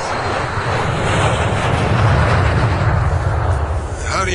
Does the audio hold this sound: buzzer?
no